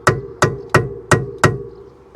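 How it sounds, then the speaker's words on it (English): Five sharp metallic taps from a small copper hammer striking a front brake part on a Mercedes 190E, evenly spaced and close, each with a short ringing decay. "I'm going to give it a little tap of love with the, where is it, the copper hammer"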